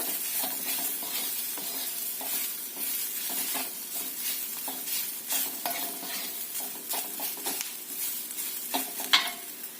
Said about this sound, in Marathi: त्यामध्ये हे भाजून घेतलेले शेंगा मसाल्यासहित शेंगा आणि परत परतून घ्यायचं